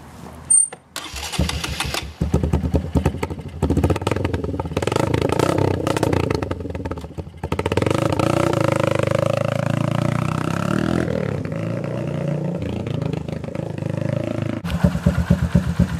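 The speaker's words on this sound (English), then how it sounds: "So guys, the bike is cold. So let's give it a minute to warm up. And just listen to that idle." A cold Honda CRF150F dirt bike engine cranks after brief clatter, catches, and settles into a steady, loud, rumbling idle close by, with revs wavering slightly while warming up.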